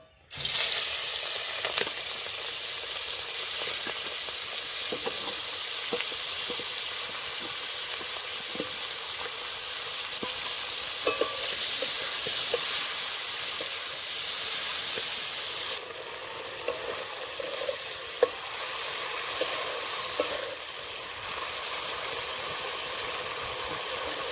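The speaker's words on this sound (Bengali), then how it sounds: "চিংড়ি মাছ ভাজা হয়ে গেছে" Prawns coated in salt and turmeric fry in hot oil in a pan, a constant loud sizzling hiss with occasional stirring clicks, dropping slightly in level partway through; no speech.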